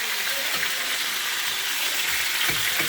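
Food frying in a pan, a steady bright sizzle with occasional soft pops and stirring sounds, close and continuous.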